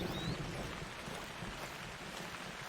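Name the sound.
thunder in a video game, theHunter: Call of the Wild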